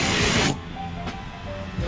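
Graphene ceramic coating spray hisses from the can in a strong burst that cuts off, followed by quieter hiss and a second short spray near the end.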